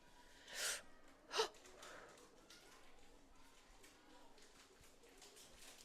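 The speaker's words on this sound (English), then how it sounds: "a little gasp from me because I get close to the game and very scared" A commentator's sharp little gasp at a women's college soccer match, two quick breathy bursts early on, then low crowd and field ambience carrying on quietly.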